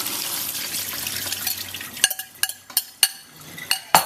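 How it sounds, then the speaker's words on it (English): Cool tap water runs over pomegranate seeds in a colander for about two seconds, then stops, followed by a series of sharp clinks and knocks of the colander against the sink. "And give it a rinse with some cool water."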